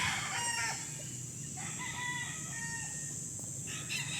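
Several gamefowl roosters crow in turn, long drawn-out calls overlapping at close and middle distance, over a steady background hum, with a few clucks and no talk.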